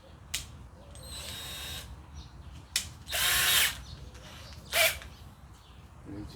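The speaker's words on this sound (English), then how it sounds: "Then you just go with your electric drill" An electric drill winding wire whirs in short bursts, with a few brief clicks and one longer spin near the middle, close and moderately loud over a low hum.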